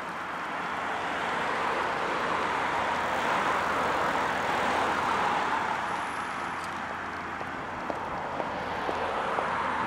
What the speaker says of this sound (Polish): Gdzieś tam samolot lata